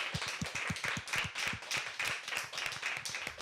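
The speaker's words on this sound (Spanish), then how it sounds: "Un aplauso al público" A small audience at a live concert claps steadily, the rapid, slightly uneven handclaps carrying close and fairly loud with no voices over them.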